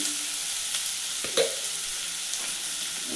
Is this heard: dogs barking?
no